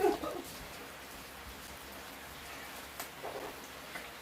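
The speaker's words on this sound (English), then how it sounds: "it's raining now. I could hear it." Steady rain falling outdoors as a soft, even hiss, with faint scattered drops and a couple of brief distant sounds.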